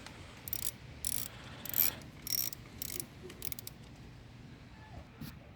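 Ratchet backing out 10 mm screws on the ignition coil cover of a 2004 Toyota Corolla: bursts of rapid pawl clicking in short runs, close and crisp over quiet background.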